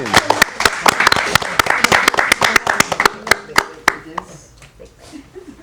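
An audience at a community youth event claps, with sharp individual hand claps ringing out close and rhythmic before thinning into scattered claps and fading toward the end.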